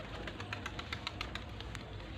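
A female pigeon kept among high-flying racing birds gives a run of soft, evenly spaced pulsing calls over a steady low background hum, moderately close.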